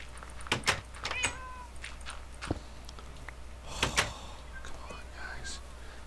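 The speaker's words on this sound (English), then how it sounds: "Cat. Meow." A Minecraft cat meows a few times in the game, short mewing calls mixed with clicks and brief game noises, and a person talks quietly over it.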